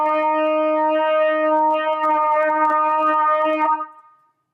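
A trumpet holds a steady F, played with the first valve pressed, sounding as one clear sustained tone for nearly four seconds before it stops, alone with no talking.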